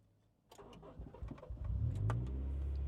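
A Honda CR-V with a new fuel pump cranking, a quiet pause followed by a rapid rattling crank that builds into a low rumbling engine catching and holding steady, close by.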